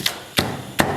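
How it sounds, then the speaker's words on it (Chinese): A knife cuts scallions into sections on a board, giving three sharp, evenly spaced chops about a third of a second apart, close and crisp. "把葱给它去干切段"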